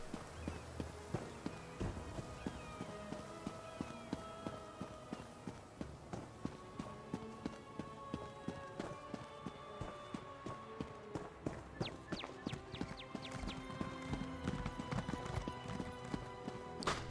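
Horse hooves clip-clop in an Elder Scrolls Online game, a steady rhythmic trot of sharp hoofbeats that carries on throughout, with faint game ambience beneath and no talk.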